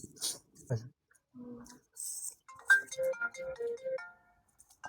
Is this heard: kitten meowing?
no